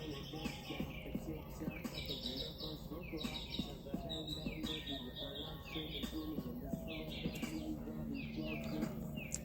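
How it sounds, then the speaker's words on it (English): Many birds chirp and tweet continuously, a busy chorus of high calls over a low steady hum, with no talking. "I really like to just listen to the birds."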